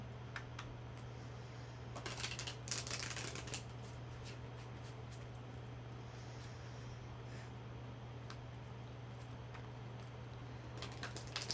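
Tarot cards are shuffled in a few quick riffling bursts with pauses between, close and quiet against a low steady hum.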